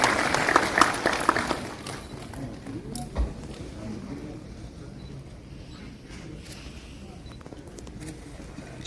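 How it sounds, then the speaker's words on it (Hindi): An audience claps to welcome a speaker at a Lucknow scholarship workshop, a short burst of applause at the start that quickly fades, followed by low room noise and a few faint knocks. "जोरदार ताली से स्वागत करिए सर का।"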